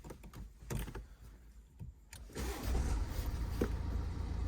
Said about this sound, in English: let me just start the engine up again